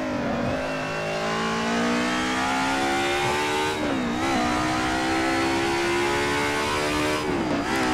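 A DTM Group A race car in Assetto Corsa lapping the Nürburgring, its engine droning loud and steady with rising revs, brief dips at gear changes, then climbing again.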